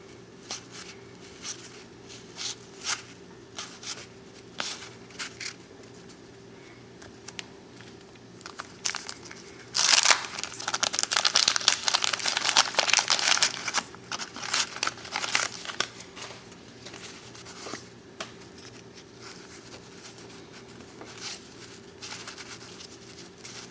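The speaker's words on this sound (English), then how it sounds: "Those full packs are a bear to try to open." Crinkling and tearing of wax wrappers on 1988 Donruss baseball card packs, with a dense burst of crackly rustling in the middle and sparser crinkles on either side, up close with no talking.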